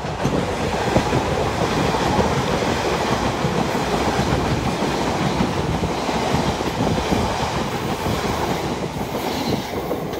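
An electric passenger train, 450-069, rushes past close by at Clapham Junction, a dense continuous roar of wheels and rail noise with faint clattering, loud and steady throughout.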